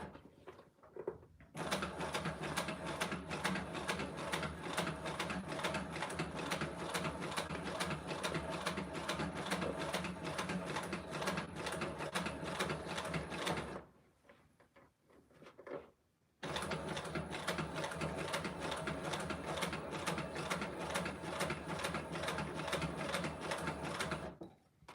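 A sewing machine stitches through a leather handbag in two long, steady runs of dense, rapid mechanical chatter, split by a brief pause, loud and close with no talking.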